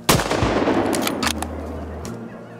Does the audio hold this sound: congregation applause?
no